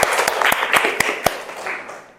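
Brief burst of classroom applause for a student group in a university lecture, with several sharp individual claps standing out over a fast patter, fading out after about two seconds.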